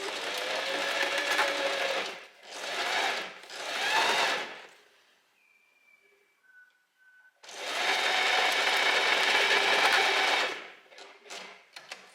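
A sewing machine stitches a dress seam, running in three short bursts, pausing with faint clicks, then running steadily for a few seconds before stopping with small taps.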